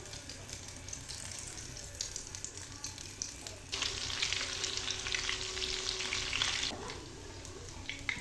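Chicken unniyappam batter drops into hot oil in an unniyappam pan, and the gentle frying swells into a loud, crackling sizzle that holds for a few seconds before easing back.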